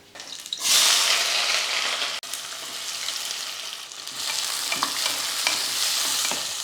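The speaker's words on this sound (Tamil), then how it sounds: "எண்ணெய் காஞ்சதுமே ரெண்டு ஏலக்காய் ரெண்டு கிராம்பு ரெண்டு துண்டு பட்டை சேர்த்துக்கிறேன்" Steady, close sizzling of cardamom, cloves and cinnamon frying in hot oil, with occasional light clicks and scrapes of stirring throughout.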